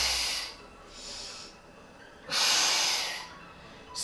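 Forceful exhales during a belly-focused workout come as airy, hissing breaths, about four close bursts spaced by short pauses, with no talking over them.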